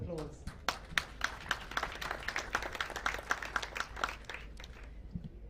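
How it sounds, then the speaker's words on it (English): A conference audience at a climate summit session applauding, a thin, uneven patter of individual claps at moderate distance rather than a full ovation, sounding alone without talk. "that amount of investment deserves a round of applause"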